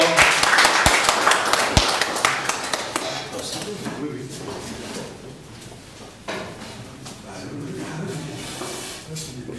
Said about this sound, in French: Et voilà, on applaudit très fort.